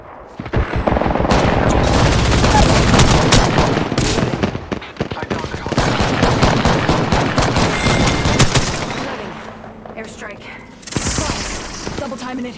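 Rapid automatic gunfire crackles through a multiplayer shooter game in long, loud, dense volleys. The shooting drops away briefly, then a final sharp burst follows.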